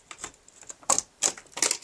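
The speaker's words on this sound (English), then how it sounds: "you just slide that out of place" Portable travel door lock being slid out of place on a door, giving a short run of sharp, close mechanical clicks and scrapes, with three louder bursts spaced out in under two seconds; no voices.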